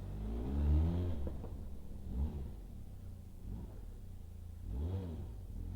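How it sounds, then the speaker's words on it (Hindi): A motorbike engine idles with a low rumble and is revved in three short swells, fairly faint and close, with no voices. "थोड़ा बाइक भी रेव करेंगे और देखते हैं कि ट्रैफिक का भी कैसा आवाज़ आएगा।"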